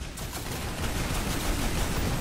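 Rapid gunfire from a fast-paced Toxikk arena shooter match, a dense, continuous barrage of shots and bursts filling the whole moment at steady loudness with no voices.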